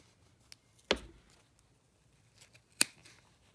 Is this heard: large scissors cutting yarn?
yes